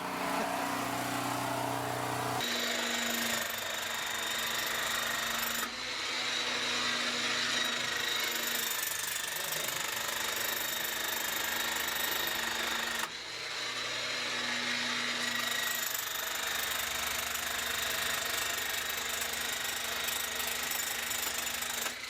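Continuous loud mechanical roar of a rock drill in a Mexican mine, harsh and steady, broken by two brief pauses before the drill starts up again; no voices.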